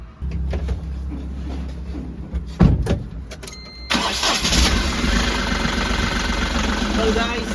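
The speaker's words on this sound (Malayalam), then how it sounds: "എൻജിൻ സ്റ്റാർട്ട് ആയിരിക്കുകയാണ്." A Dost engine, with its belt tensioner replaced, cranks briefly, catches with a sudden roar, then settles into a steady, fairly loud idle.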